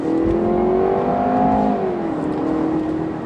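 A 2018 Jaguar E-Pace petrol engine revs and accelerates steadily, its pitch climbing then easing, loud and close with no voices.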